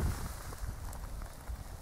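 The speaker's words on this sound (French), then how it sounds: "Et la pluie qui recommence." Rain starts falling again on an afternoon metal-detecting outing, a dense steady patter of drops on surfaces filling the scene evenly for the whole stretch, close and continuous with no voices.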